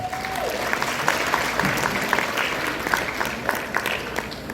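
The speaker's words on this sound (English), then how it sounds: "So if you could give yourselves a round of applause," An audience at a Nevada candidates' community event breaks into steady applause, a dense wash of many hands clapping at moderate volume that carries on for several seconds.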